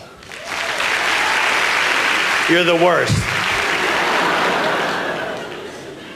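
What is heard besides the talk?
audience applause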